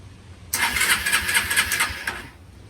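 A bobber motorcycle engine cranks and catches, a sudden rough, pulsing burst that holds for about a second and a half before cutting off, fairly close, with no voices.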